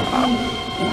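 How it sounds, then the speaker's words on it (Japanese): A four-car Keihan 10000 series out-of-service train pulls into Korien Station, a brief loud rumble of wheels and motor with a rising tonal whine. "4両編成の回送電車です。"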